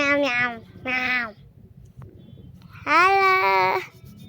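A person's voice imitating a cat, giving three drawn-out, nasal meows, two short ones close together and then a longer one after a pause, over faint background noise.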